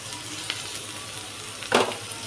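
Onion frying in a pan with chicken, a steady soft sizzle throughout, broken by one sharper crackling burst near the end as the pan contents are stirred, with no talk.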